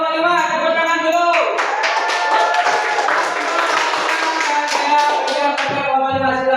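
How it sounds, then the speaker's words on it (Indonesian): Schoolchildren in a Grade IX civics classroom clapping their hands together, a burst of group clapping rising over tonal background sound and speech, then fading as a voice carries on. "Tepuk tangan dulu."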